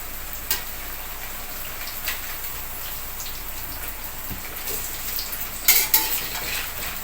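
Steady crackling sizzle of snacks frying in hot oil, with a few sharper pops and clinks near the end; no voices.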